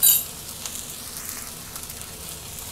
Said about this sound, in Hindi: अब हम जल्दी से सारी चीज़ों को अच्छी तरह से मिक्स कर लेंगे ये राइस हमारे अच्छे से फ्राई हो जाएंगे